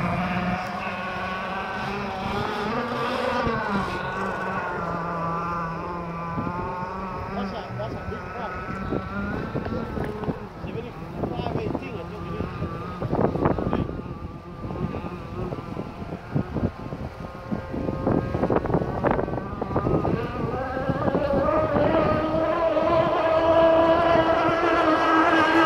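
A MysticSport 53 powerboat runs hard at high speed, about 65 mph on the water, its engine a steady, close, loud roar with wind buffeting the microphone and voices talking over it throughout.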